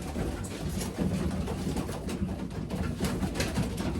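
Pet pigeons coo in a steady, continuous murmur of soft throaty calls, close by and fairly loud, with no talking.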